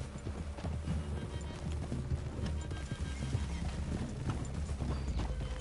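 Horses walking in the video game Red Dead Redemption 2 make a continuous dense clatter of hooves over loud outdoor ambience, with no clear pauses.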